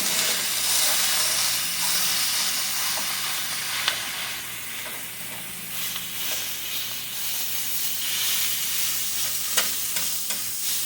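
Ground beef sizzles and crackles steadily in an oiled skillet for homemade chili as it is broken up and stirred, with a continuous close frying hiss and occasional scraping taps, no talking.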